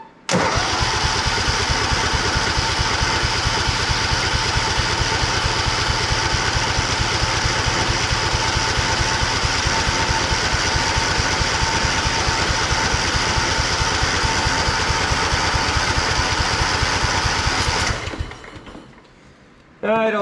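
A Craftsman lawn mower with a Kohler 16.5 HP engine, choke fully up, cranks on the starter in a loud, fast, rhythmic churn that runs for about eighteen seconds without catching, then stops.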